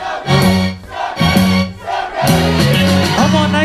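A crowd at a live dance event cheers, whoops and shouts together in loud bursts that swell and dip, with music underneath.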